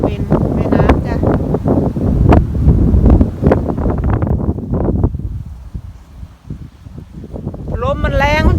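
Strong wind buffets a riverside walking path, gusting and roaring in the microphone while a person talks loudly over it, with a brief lull before the voice returns.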